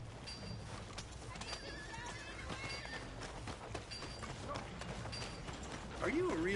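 Red Dead Redemption 2 horse gives a whinny amid soft clopping hooves and creaking tack, fairly faint over a busy outdoor game backdrop, with a rising neigh near the end.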